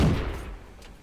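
A tank gun fires once in a war video game, a loud close boom that opens the moment and trails off in a rumbling decay over about a second.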